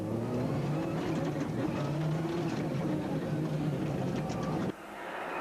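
A Ford Escort rally car's engine at the Tipperary Stonethrowers Rally, droning loud and sustained as it drives through a stage, then cutting off sharply near the end.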